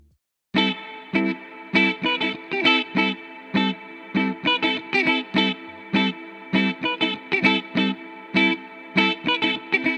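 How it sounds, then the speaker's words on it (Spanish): Bright, distorted synth-like chords play in short rhythmic bursts with a sustained wash of reverb, as from a reverb freeze effect in Ableton Live holding the tail almost indefinitely, with no talking. "El parámetro de freeze refiere a congelar la respuesta de la difusión, de forma que la reverb se va a sostener de forma casi infinita."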